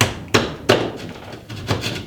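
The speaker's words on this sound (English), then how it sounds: "You can take a drywall jab saw and jab that in there" A drywall jab saw is stabbed into drywall while a light fixture is being changed, giving three or four sharp, close thuds at irregular intervals with quiet gaps between them.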